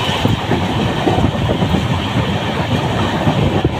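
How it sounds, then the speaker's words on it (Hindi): Superfast express train on the Bikaner route passing a station, a loud close rumble with rhythmic wheel clatter over the rails, continuous with no talk. "पूरी एक्सप्रेस ट्रेन है ये"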